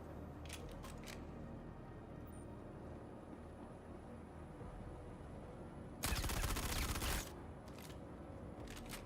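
In the Star Citizen video game, a rifle fires one short burst of rapid shots, unusually quiet, breaking an otherwise near-silent stretch marked only by a few faint clicks.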